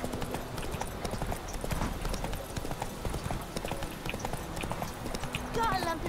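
A horse's hooves clip-clop steadily on the ground in a video game, a continuous close, rhythmic trotting that runs throughout, with faint voice-like sounds near the end.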